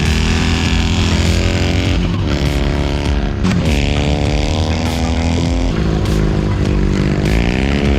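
An MT Dnipro motorcycle fitted with knobby cross tyres revs hard for a fast start on sand, its loud engine roaring and climbing through gear changes, close and continuous.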